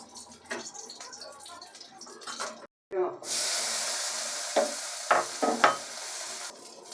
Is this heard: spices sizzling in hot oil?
yes